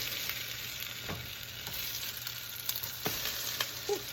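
Pumpkin French toast sizzles steadily in hot oil in a pan, a continuous close frying hiss with a few brief pops and scrapes, no voices.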